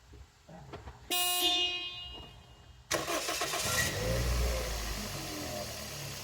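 A 2002 Toyota Echo with a cylinder misfire cranks with a starter whir, catches briefly with a loud rough burst and then dies away, the engine noise close and fading unevenly over several seconds.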